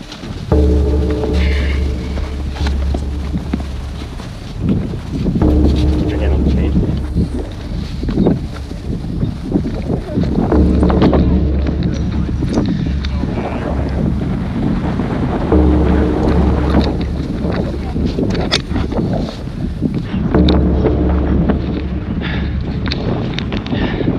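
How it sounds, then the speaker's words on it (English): Strong wind whips across the exposed mountain trail at Angels Landing, buffeting the microphone in loud, continuous roaring gusts that swell and ease for the whole stretch, with no talk. "Wind is whipping up here now."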